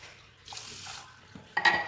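Soaked rice and lentils being washed in water in a home kitchen, with soft sloshing and splashing and a clatter of a vessel toward the end, close and fairly quiet, with no talking.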